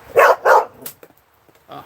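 A dog barks twice in quick, loud succession nearby, followed by a softer yip and a faint final bark after a short pause.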